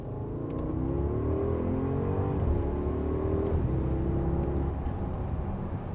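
A heavy 2018 Porsche Cayenne Turbo with a 550-horsepower twin-turbo V8 accelerates hard in second gear, its engine note climbing steadily in a loud, sustained, close-up roar that holds for the whole stretch.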